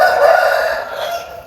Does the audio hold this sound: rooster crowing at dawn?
yes